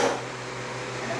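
A blender runs on ice crush mode blending chickpeas, a steady loud motor whir with a constant hum throughout the short stretch.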